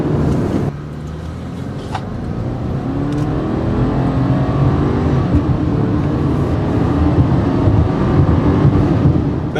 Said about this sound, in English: I'm just going to floor it and see what the car does